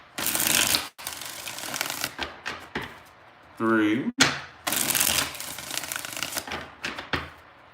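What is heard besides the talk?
shuffling tarot cards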